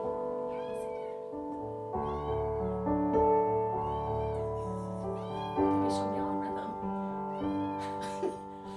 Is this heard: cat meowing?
yes